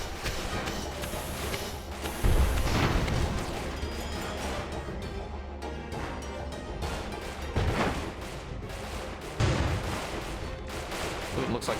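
Airship guns fire on an enemy ship in a strategy battle game, heard as a steady rattle of gunfire with heavier booming bursts every few seconds beneath a continuous noisy backdrop.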